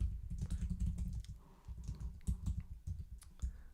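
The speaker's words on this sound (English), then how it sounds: "Why am I typing out funny?" Rapid keystrokes rattle on a computer keyboard in a steady, close burst of clicking with a few brief pauses, heard alone without talk.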